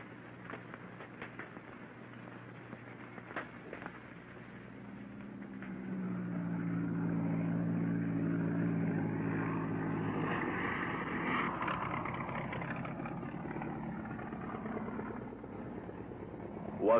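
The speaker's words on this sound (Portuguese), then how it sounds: "O avião traz homens e provisões" A propeller airplane bringing men and supplies to a remote jungle setting, its droning engine growing louder from about six seconds and holding a steady hum before easing slightly, with no speech.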